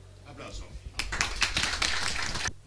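An audience at a business consulting presentation breaks into clapping after a faint start, a burst of sharp overlapping claps that swells for about a second and a half and then stops abruptly.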